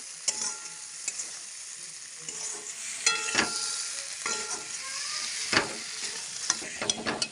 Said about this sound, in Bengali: আলুটাও দিয়ে দিচ্ছি, নেড়ে দিচ্ছি।